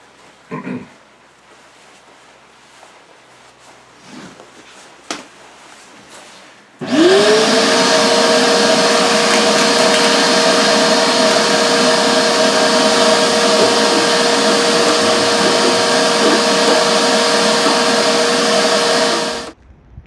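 A rotary chimney cleaning system starts up abruptly and runs as a loud, steady motorized whir and rumble for about thirteen seconds before cutting off, after faint shuffling and a sharp knock.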